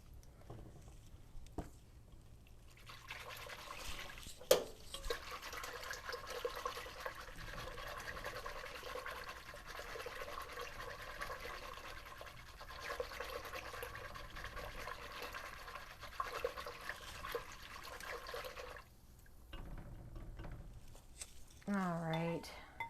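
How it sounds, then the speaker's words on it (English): Half and half or milk poured into a soup pot in a steady, continuous liquid stream lasting around fifteen seconds, moderately loud and close, with brief clatters at the start and end. "I am also going to add in our 2 cups of half and half or milk"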